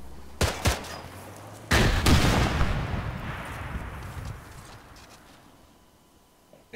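Gunfire in a military video game: a couple of sharp shots followed by a loud, booming blast that rumbles and fades slowly over several seconds.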